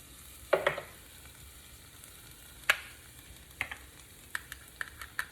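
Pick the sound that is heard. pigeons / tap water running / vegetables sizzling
vegetables sizzling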